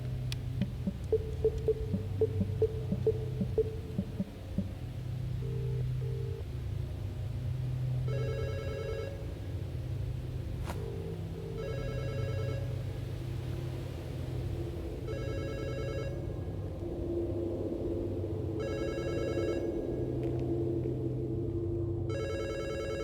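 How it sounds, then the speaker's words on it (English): A telephone rings repeatedly inside the horror video game Fear the Spotlight, with several evenly spaced bursts of bell tone over a steady low ambient hum, gradually growing clearer and closer. "call the phone number and then follow the sound of it"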